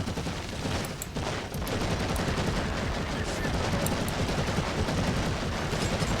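Gunfire in the Warhammer 40k: Eternal Crusade video game, a steady dense rattle of shots running the whole stretch with short sharp bursts on top, loud and close.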